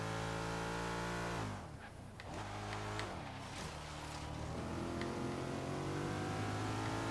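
Porsche GT3 engine in the Forza Horizon 3 racing game, loud and close, holding a high rev tone, dipping briefly as the car brakes or shifts, then climbing again in strong rising sweeps.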